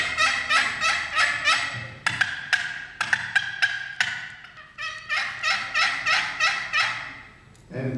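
A hand-operated turkey call imitates a hen turkey's yelp, producing series of sharp, nasal yelping notes in quick runs, repeated several times with brief pauses, loud and close.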